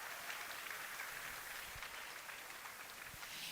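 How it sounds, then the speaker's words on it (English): A crowd at the USA Jigsaw Nationals 2026 puzzle competition gives a big round of applause, a continuous even patter of many hands clapping at moderate distance, with no speech over it. "Give them a huge round of applause."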